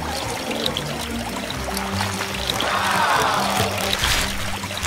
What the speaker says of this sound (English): The pump sends water from that mountain lake to the rose greenhouse, then flows on to the pumpkin one for watering.